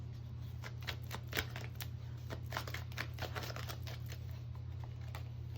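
Tarot cards are shuffled in a quiet room, a string of soft, irregular crisp clicks and riffles over a steady low electrical hum.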